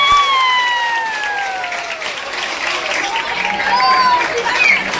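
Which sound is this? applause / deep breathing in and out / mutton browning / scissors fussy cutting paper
applause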